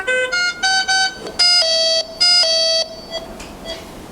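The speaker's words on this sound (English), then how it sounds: "Doctors and nurses so overwhelmed with beeps and warnings from medical machines" Hospital medical machine alarms beep in repeating electronic tone bursts, several overlapping patterns at different pitches, loud and close, fading into quieter scattered beeps near the end.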